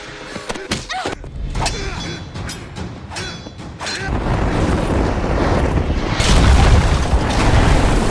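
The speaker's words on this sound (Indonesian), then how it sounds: "sayangnya gunung itu meledak lagi sehingga Milo memilih untuk meninggalkannya di sana." A mountain volcano erupts in a cartoon action scene with a deep rumbling boom that swells into a loud, roaring wall of noise. It starts after some sharp hits and effects and grows louder toward the end.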